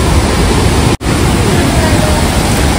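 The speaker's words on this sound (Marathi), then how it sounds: "पाण्याचा फ्लो बघा इथे एकदम भारी पडतोय. पाऊस जास्त पडला त्याच्यामुळे एवढा फ्लो आहे." Heavy water flow at Vasundhara waterfall after rain, a loud, steady broadband roar filling the whole clip with one brief dropout near the start.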